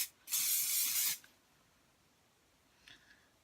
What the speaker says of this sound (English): you just want to be careful not to put too much hairspray on it